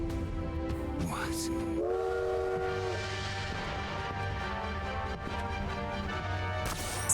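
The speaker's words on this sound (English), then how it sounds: "Suddenly running on train tracks." In-game sound from Bloodstained: Ritual of the Night as a train runs on tracks, with whistle-like tones and a steady mechanical rumble under bursts of game noise and music.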